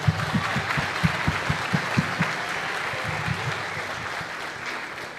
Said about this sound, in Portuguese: Dê um aplauso para Jesus, dê um aplauso para o Senhor.